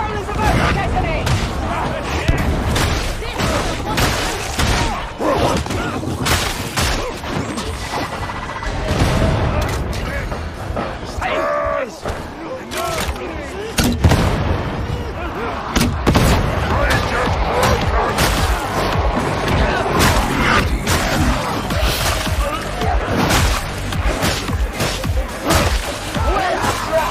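Explosion detonating in the video game Warhammer 40,000: Darktide, a loud burst within dense, continuous combat din of rapid gunfire and repeated booms, with in-game voices now and then.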